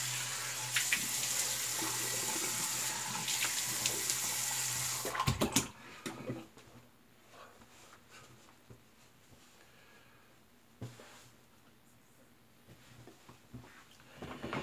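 A tap runs steadily while a Fine Marvel safety razor with a Gillette Stainless blade is rinsed after a shave. The water splashes loudly for about five seconds, then shuts off, leaving faint handling noises and quiet splashes.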